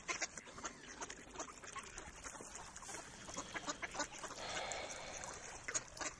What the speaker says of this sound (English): Giz, I need a duck.